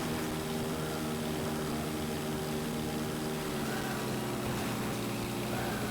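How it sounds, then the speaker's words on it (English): A loud video game car engine that roars like a jet taking off, a constant, dense drone with a steady low hum that holds without pause. "Lower the fucking sound of the car that sounds like a jet engine taking off?"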